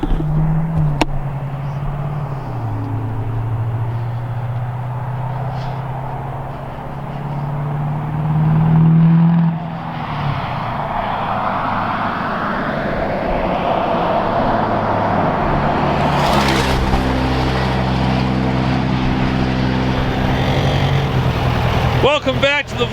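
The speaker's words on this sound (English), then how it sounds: "I can hear the truck." A modified truck, built from a Wehrli Custom Fab S400 kit, idles with a deep rumble throughout, rising in a drawn-out rev near the middle and again late. Voices talk over it at times.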